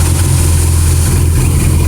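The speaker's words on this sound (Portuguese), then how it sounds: "Vou ligar a moto." A 2010 BMW R1200GS motorcycle engine idles steadily and loudly up close, a constant low throbbing rumble with no pauses.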